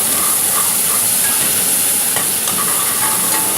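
Chilli chicken with oyster and soy sauce sizzles loudly in a hot pan, a dense continuous hiss and crackle up close, with faint stirring scrapes underneath and no talking.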